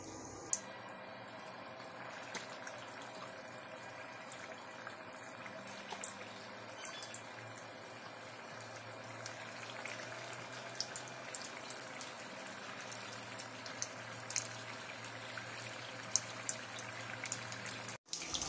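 Onion bhaji frying in hot oil in a kadai, a continuous soft sizzle and bubbling with scattered pops, steady and close, with no voices.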